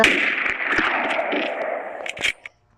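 Gunfire in a capture-the-flag round of a shooter video game, a dense run of loud shots and clattering bursts that stutters and cuts off after a couple of seconds.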